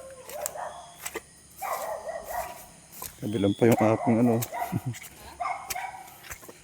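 Dogs barking in a forest near chickens, a cluster of sharp, fairly close barks bursting out mid-clip between stretches of Filipino speech.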